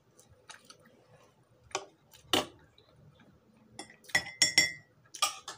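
Breakfast of pandesal with strawberry jam, with light close clinks of glass and cutlery, soft chewing and scattered small taps in a quiet room.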